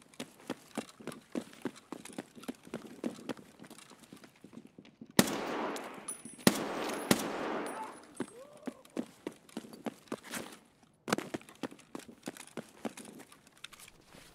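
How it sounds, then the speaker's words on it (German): Gunfire in Escape from Tarkov on the Streets map: sharp, repeated shots crack throughout at moderate distance, with a louder burst of several close shots near the middle and a few scattered distant reports after. "deswegen hören wir wahrscheinlich auch die ganze Zeit diese Schüsse oben"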